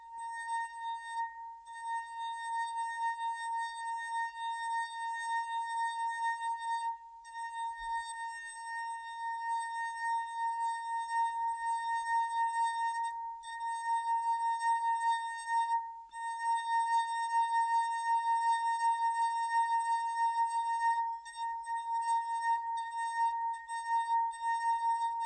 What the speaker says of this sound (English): So watch what happens when I start playing the second glass.